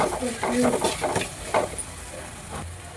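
Coconut, cumin and pepper masala fries in a pan while a spoon stirs it, giving soft scraping strokes over a light, close sizzle.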